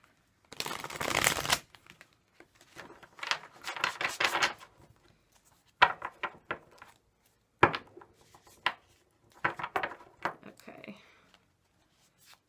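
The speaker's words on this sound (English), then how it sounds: "Let's shuffle these real quick for you, group 3." Tarot cards are shuffled in several quick riffling bursts separated by short pauses, close and crisp.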